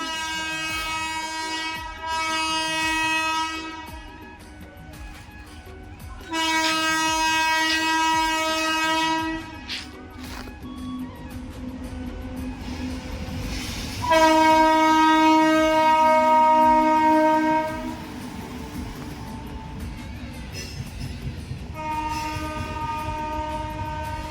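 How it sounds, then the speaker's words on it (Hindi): A train rolls past directly in front of a house, its horn sounding in several long, loud harmonic blasts over the steady rumble and clatter of the cars, with the blasts rising and falling as it goes by. "हमारे घर के जस्ट सामने से ट्रेन गए"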